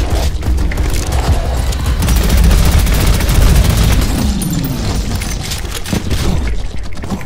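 Continuous booming explosions and rapid impacts from an enemy launcher in the shooter Prodeus, loud and dense throughout with low rumbling blasts layered over gunfire-like crackle.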